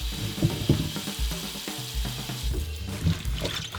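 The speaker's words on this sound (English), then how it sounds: "Let's wash this. All right, we're getting everything washed up." Kale and salad greens are washed under running water, a close steady rush of tap water with irregular splashes and handling thumps, no talk.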